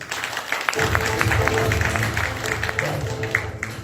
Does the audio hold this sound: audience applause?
yes